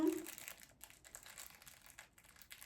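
A Temu haul package being opened by hand, with quiet plastic crinkling and crumpling in short bursts and faint breathing underneath.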